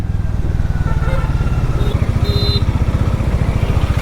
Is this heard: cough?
no